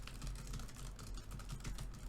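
Light, less clicky computer keyboard typed on continuously, producing a soft, muted patter of keystrokes, faint and close, with no one speaking.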